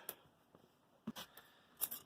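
A few short, sharp snips and crisp clicks of scissors cutting packing tape, separated by near silence in a quiet room.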